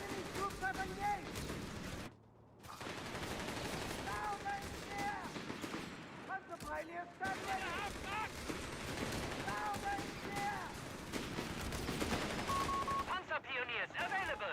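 A Company of Heroes 2 battle with continuous, overlapping gunfire and machine-gun bursts at mid distance. Shouted in-game voices and occasional alert tones sound over the shooting.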